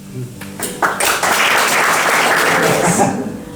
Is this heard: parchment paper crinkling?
no